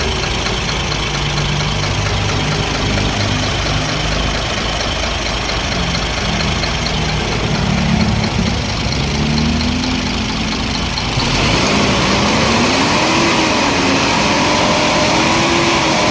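A diesel engine idles after its injectors have been bled, a loud, even rumble that holds steady, then shifts slightly in tone partway through.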